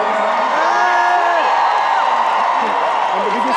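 A huge arena crowd at a concert in Berlin roars and cheers continuously, with whoops and sustained vocal noise filling the space at high volume throughout.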